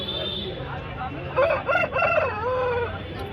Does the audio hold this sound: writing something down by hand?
no